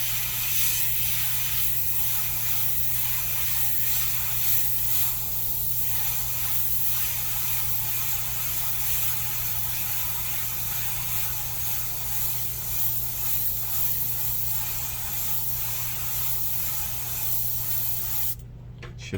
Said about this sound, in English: I'm aiming the airbrush directly at the cut